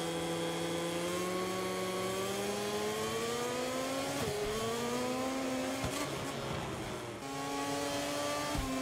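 A racing motorcycle engine in the video game MotoGP 24 whines loudly and continuously, its pitch climbing steadily through the gears with a few quick drops at gear changes before rising again.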